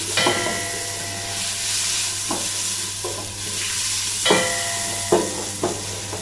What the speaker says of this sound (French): j'ai mis un petit peu d'huile d'olive. Je vais faire revenir les oignons